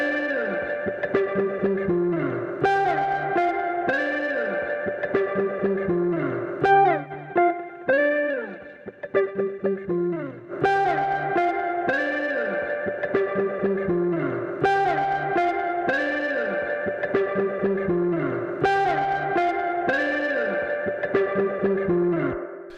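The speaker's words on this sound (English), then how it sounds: "I'm adding a bit of the lo-fi sound here. I'm adding quite a lot of compression, and I'm adding some classic kind of spring to the guitar." Electric guitar loop run through a LadyBug LoFi reverb pedal with heavy compression and classic spring reverb, playing sustained, crunchy, washy chords in a steady flow with no talking.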